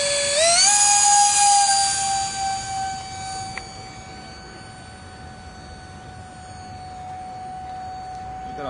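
Small F15 Nano electric ducted fan RC jet of foam Depron, thrown by hand on its first flight: a loud, high whining fan that rises sharply at launch, then holds a steady piercing tone as the jet flies off and fades slightly.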